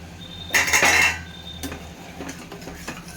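A spoon mixing yogurt into drumstick biryani masala, a short burst of metallic scraping and clinking against the pot, followed by a few fainter taps and stirs.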